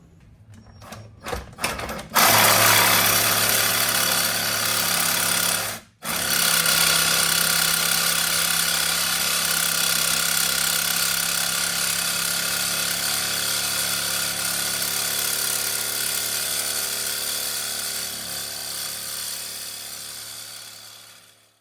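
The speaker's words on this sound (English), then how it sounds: "you have to cut through the sleeve and the bushing also, so it takes a while" A power tool cuts through the sleeve and bushing of a front suspension on a 2002-06 Honda CR-V, starting with a few short bursts, then whining steadily and loud for a long stretch with one brief pause.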